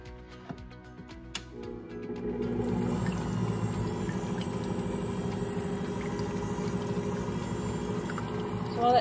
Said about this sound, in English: So I'm gonna pour this in and we're gonna mix all of our liquid ingredients together